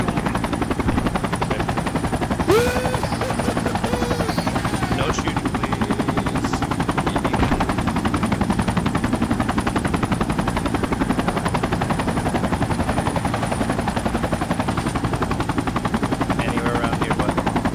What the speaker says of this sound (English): Chopper, chopper, chopper! Get in.